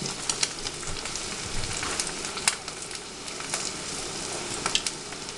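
An egg in a basket, bread with an egg in its center, cooking in a frying pan after being flipped, giving a soft steady sizzle with scattered pops and crackles, close and alone.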